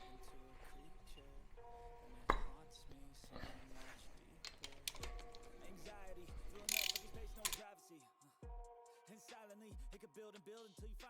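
Spark plugs being ratcheted out of a Harley-Davidson Iron 883 motorcycle engine during a service, with rapid close mechanical clicks and clattering that occur in bursts and are joined by brief metallic taps.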